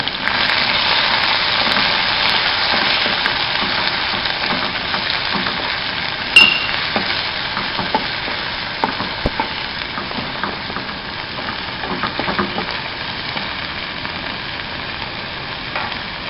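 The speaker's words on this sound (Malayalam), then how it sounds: "അതിലേക്ക് ഉള്ളി ചതച്ചെടുത്തത് 1 കപ്പ് അതിട്ട് വഴറ്റുക" A cup of crushed onions sautés in hot oil in a pan for a Kerala sardine curry. The loud frying hiss is continuous and close, with occasional light stirring taps throughout.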